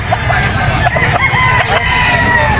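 A rooster on sale at a busy Bocaue pet market, a red-eyed, yellow-legged stag, crows and clucks close by over a constant crowd murmur and mingled bird calls.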